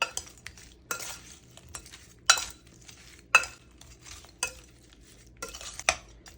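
Raw shrimp tossed with a little olive oil using a utensil, soft wet stirring with a few sharper clinks against the bowl, close and fairly quiet, no voices.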